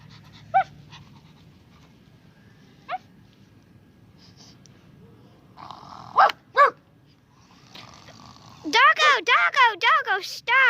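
A dog gives scattered short barks and growls at first, then a rapid close burst of sharp barks near the end, with a person speaking briefly in between.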